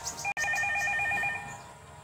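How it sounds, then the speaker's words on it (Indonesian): An electronic telephone rings indoors at night, a steady trilling tone with a brief cutout partway, then fading to a softer ring. "Sebuah telepon berbunyi."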